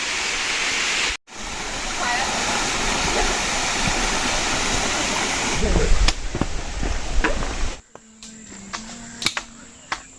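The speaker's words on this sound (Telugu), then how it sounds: "ఇక్కడ ఒక చిన్న వాటర్ స్ట్రీమ్ ఉంది" A small stream on a monsoon trek near Kataldhara Waterfalls in Lonavala gives a loud, steady rushing wash, with brief breaks and some clattering and rustling toward the end.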